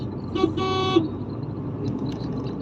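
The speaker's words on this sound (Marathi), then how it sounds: "मागच्या दादाला खूपच घाई आहे तो हॉर्नवर हॉर्न देतोय" A car horn honks twice in quick succession over the low hum of a moving vehicle and road noise.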